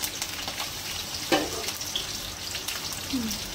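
Cinnamon, cloves and curry leaves frying in hot oil, a steady close crackle and sizzle with scattered pops, all continuous and without a voice.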